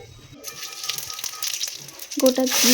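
Whole cumin seeds hit hot oil already holding bay leaves, dried red chillies and whole garam masala, giving a close, steady sizzle that swells louder toward the end amid light stirring.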